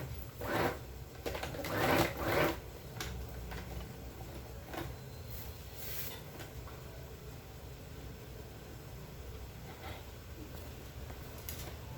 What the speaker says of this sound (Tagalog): Pagtatahiin nyo po yung sigsag na sewing machine